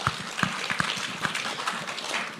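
An audience applauds at a gathering celebrating a top CA Inter exam result. The clapping is brisk and uneven, with distinct individual claps rather than a dense roar, and lasts only a couple of seconds.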